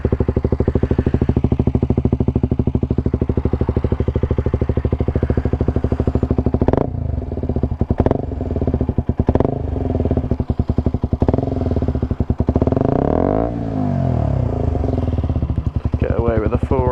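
A KTM RC 125 motorcycle exhaust idles steadily up close, a low even burble running through most of the stretch, with brief throttle blips near the end and a voice talking over it.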